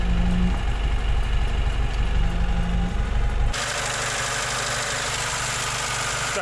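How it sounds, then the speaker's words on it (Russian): A VAZ 2107 engine idling with a knock, running steadily and close by, with a continuous low rumble that changes character partway through and carries on without a break. "Мотор стучит, но работает."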